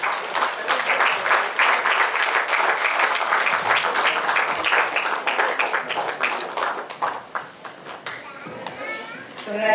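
Dense, loud applause from an audience at a school awards ceremony rolls on steadily, with children's voices and cheers mixed in before the clapping thins out near the end.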